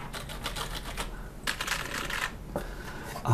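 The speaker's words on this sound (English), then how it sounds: "you hear it yourself. The keys are a little loose" Loose keys on a Logitech G13 gaming keypad clicking close up in quick irregular bursts of rattly taps.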